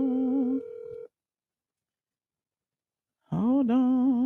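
Electronic phone-call tones: a steady held tone that drops in level and cuts to silence, then a warbling, slightly wavering tone returns loud and close after a two-second gap, with no one talking.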